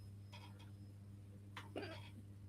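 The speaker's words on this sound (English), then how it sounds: "so I have a hiccup" A single hiccup from a person, a short throaty catch near the middle of the clip, quiet and close against a low steady hum.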